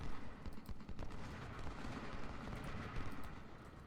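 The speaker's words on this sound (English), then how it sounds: "And now we're going to come under canister fire, and it's going to get really ugly." Canister fire and musketry rumble through a Civil War battle in Ultimate General: Civil War, with sharp cracks and booming blasts rising over a steady, thick roar of distant and mid-range gunfire.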